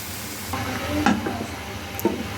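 A spoon scrapes and stirs fried cabbage with spices in a pan, soft sizzling underneath and a few louder clacks against the metal over about two seconds.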